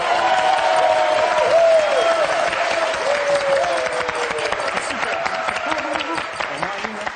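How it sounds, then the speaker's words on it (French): A studio audience on a TV quiz show gives a sustained ovation of clapping and crowd noise. A host's voice carries over the applause before it fades toward the end. "Une ovation pour le Mexique de toute la salle."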